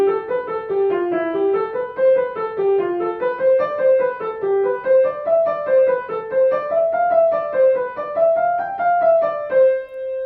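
A finger exercise on an instrument played at a quicker pace, clear single notes stepping up and down in a steady, even run, loud and close with no talking.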